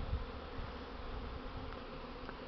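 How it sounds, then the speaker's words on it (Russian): Buckfast honey bees in a strong spring flight at the hives fill the air with a steady, close, multi-layered buzzing, with individual bees droning past the microphone. "Вот пчела, это баксфаст."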